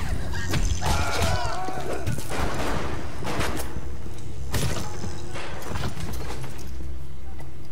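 Gunfire in BioShock, a game set in the underwater city of Rapture: a string of sharp, loud broadband shots and thuds spread across the clip over a dense, constant game soundscape.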